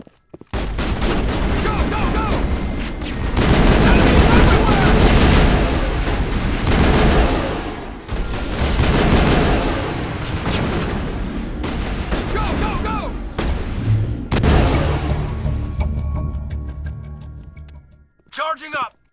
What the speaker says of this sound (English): Open fire. Open fire!